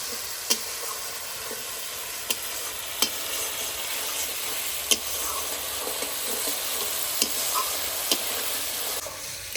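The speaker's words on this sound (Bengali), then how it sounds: "এইদিকে রসুন আর টমেটোটা ভালোভাবে ভাজা হয়ে গেছে" Garlic and tomato fry in a pan for a catla fish roast, giving a steady, soft sizzle with a few sharp clicks of stirring scattered through it.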